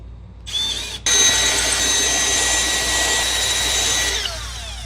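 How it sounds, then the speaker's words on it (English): A power drill with a step bit whines loudly and steadily through metal while enlarging holes, close up, after a short start and stop, then the pitch drops as it winds down. "And then I just take my step bit and I just drill it out one size on each hole."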